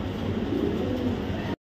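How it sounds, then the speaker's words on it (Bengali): Two grizzle racing pigeons coo in a soft, continuous low murmur close by, steady throughout before cutting off abruptly. "দেখেন দুটা কবুতর দেখছেন"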